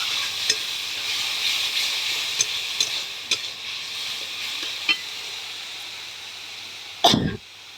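Onion, green chili, ginger and garlic paste sizzle steadily in hot oil while being stirred for a Bengali fish curry, with scattered soft taps of the spoon, then a sharp loud burst of spluttering near the end.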